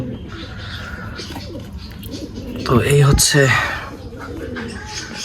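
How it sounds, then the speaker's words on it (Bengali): Local native pigeons in a backyard loft coo in a short soft burst, with a male brooding eggs nearby, while someone talks close by over a steady low hum. "এদিকে দেশি কবুতরের মেলটা চলে এসেছে ডিমে তা দিচ্ছে"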